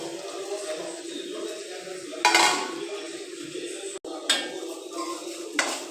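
Bitter gourd pieces tipped into a metal pan bring sharp clattering scrapes and knocks of utensil on pan, three distinct bursts over a quieter kitchen background.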